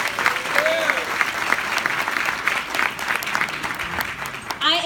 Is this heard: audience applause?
yes